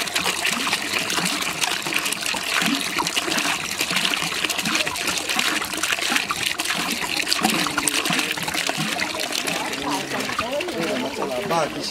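Water pours steadily from a well, a close, loud and continuous trickling gush that splashes without pause throughout.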